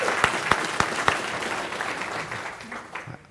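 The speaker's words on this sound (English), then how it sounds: "Let's give her a round of applause." Audience at a Fayetteville city council meeting applauds a visiting state senator, opening with a few sharp claps that swell into a steady round of clapping and fade toward the end.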